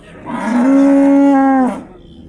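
Young calf at a livestock market letting out a single loud, drawn-out moo lasting about a second, close by with faint market background.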